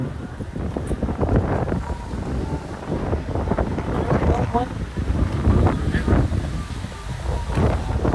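Strong, steady wind buffets the microphone with a loud, rumbling roar that continues throughout, with a voice speaking underneath, on the road to Mantralayam.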